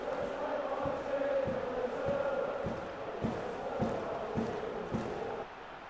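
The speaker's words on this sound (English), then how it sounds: "something for the crowd to cheer about for sure" Stadium crowd in the football video game PES 2014 roars in a steady, loud wash, with rhythmic thumping chant beats and surges of cheering running throughout, briefly dipping near the end.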